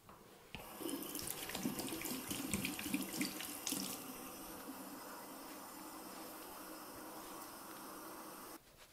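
Tap water runs steadily into a sink while a facial cleanser is emulsified during an evening skincare routine, a close, continuous splashing stream that starts abruptly and stops near the end.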